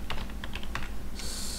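Someone types a search on a computer keyboard, a quick run of crisp, close key clicks in a brief burst with a steady hum underneath.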